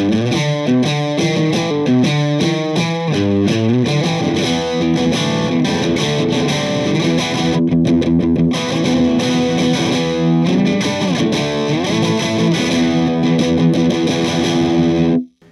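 A heavily distorted electric guitar through a vintage distortion pedal plays chords and riffs continuously, bright and fuzzy, loud and up close with no voices.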